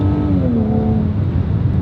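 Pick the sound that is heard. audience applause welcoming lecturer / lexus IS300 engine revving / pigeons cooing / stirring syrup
lexus IS300 engine revving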